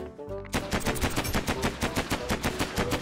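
Rapid automatic gunfire in the video game Mini World, a loud, evenly spaced burst of about a dozen close shots fired in quick succession.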